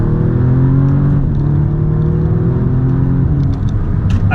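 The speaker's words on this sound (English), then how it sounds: "This is a 6-speed dual clutch from Audi, and it just shifts so quickly, so smoothly." An Audi S3 with a 6-speed dual-clutch gearbox drones steadily from inside the car, a loud low engine hum with pitch shifts at quick, smooth gear changes.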